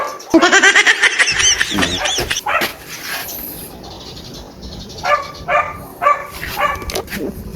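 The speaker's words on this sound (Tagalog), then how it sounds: "shout out sa aso. Sa aso ng kapitbahay." A neighbor's dog barks and yips nearby, a loud burst at the start followed by a run of repeated barks, with faint bird sounds in the background.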